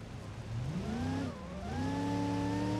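A RAM TRX truck engine strains on sand dunes in BeamNG.drive, in hot weather and with a bad right-side axle. The engine note climbs in pitch, dips briefly, then rises again and holds a loud, sustained drone.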